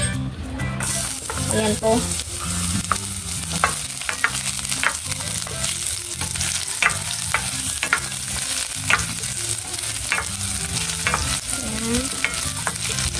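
Garlic sautéing in hot oil for a simple Filipino home dish, a steady close sizzle with repeated stirring scrapes and taps throughout, and a voice speaking briefly near the start.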